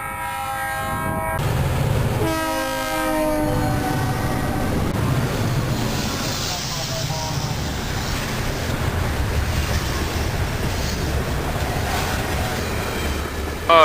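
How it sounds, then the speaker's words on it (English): EMD GP9 diesel locomotive speeding past on a flyby, a sustained loud roar with a horn blast at the start, rushing wheel and wind noise that swells and then slowly fades. "EMD GP9 XBN 1743. On a speeding. They're gonna be cooking flyby here."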